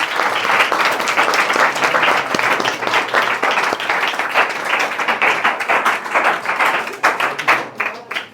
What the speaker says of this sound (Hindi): तालियां बजाते रहो आज।